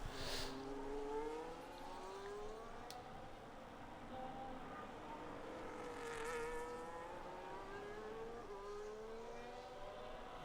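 An Alpine race car in an MSR sim racing session at a US round rounds the final bends, its engine a steady, moderately distant whine with gently rising and falling pitch, alone without talk.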